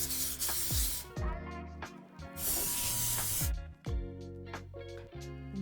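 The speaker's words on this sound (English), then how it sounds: "But just spray the sides." Oil sprays from a can onto the sides of a cake pan for a Dulce de Leche Golden Key Cake in two close, hissing bursts between clinks and handling noises, with no talking.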